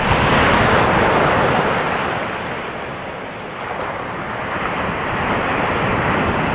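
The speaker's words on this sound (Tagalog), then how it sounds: "Lalaki naman ng alon dito." Big ocean waves crash onto a shore at a shore-casting fishing spot, a loud continuous roaring surf that swells, dips briefly and builds again, with wind buffeting the microphone.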